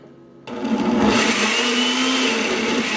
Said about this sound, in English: Everything is finally blended.